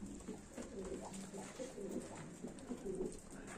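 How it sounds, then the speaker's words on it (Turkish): Pigeons cooing softly and repeatedly in a rhythmic series of low murmuring calls, close by and fairly quiet over a faint background hum. "Güzel kuşlarımız var."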